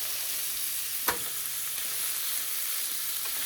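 Hot Italian sausage meat, squeezed from its casing, sizzles steadily in a pan as a spoon breaks it up, with one sharp scrape near the start over the constant close frying hiss.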